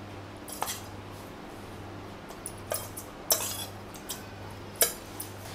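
Powdered sugar being stirred into a warm moong dal ladoo mixture, a few spaced metallic scrapes and clinks of a spoon against the vessel over a low steady background, close and fairly quiet.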